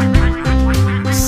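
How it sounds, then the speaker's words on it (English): A cartoon duck quacks loudly three times in quick succession, each a short nasal honk close up. "ducks."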